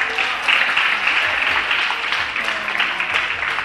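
Applause at a Ramadan children's programme, a dense, even patter of many hands clapping throughout, moderately loud with no break.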